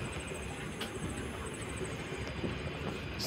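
Teesta Torsa Express train rumbling steadily along the tracks, a continuous close broadband roar with faint rhythmic wheel clatter throughout, no talking.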